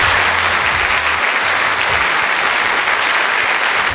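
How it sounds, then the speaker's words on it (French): Thunderous applause from a large crowd, a steady and dense wash of clapping that stays loud and unbroken throughout. "C'est un tonnerre d'applaudissements."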